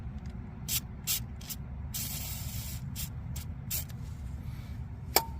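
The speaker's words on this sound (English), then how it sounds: "so we're going to hit it with some WD-40" Aerosol WD-40 sprayed onto a Toyota Corolla tie rod comes as several short, close hissing bursts and one longer spray, over a low garage hum.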